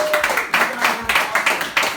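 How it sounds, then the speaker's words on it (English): Audience at a speech applauding itself, a handful of nearby claps in a loose, uneven rhythm with a voice faintly under them. "give yourselves a round of applause for being here"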